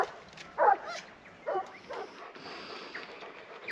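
Farm dogs bark in a few short bursts while being moved through a lamb shed, moderately close with quiet gaps between calls.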